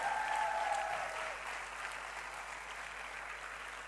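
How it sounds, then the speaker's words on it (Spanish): Steady audience applause, dense and sustained, with many hands clapping at once and easing slightly toward the end. "¡Aplaudí más fuerte!"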